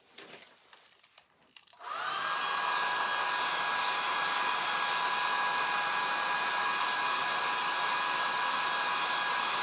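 A hand-held dryer blows on a freshly stenciled sweatshirt, switching on after a few faint clicks and then holding a loud, steady whooshing whine close by, with no talking.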